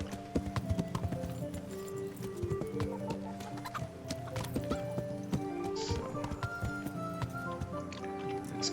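Rhythmic horse hoof clip-clops from the Kingdom Come: Deliverance video game, steady and moderately close over a busy game soundscape with faint ambient tones and occasional clatter.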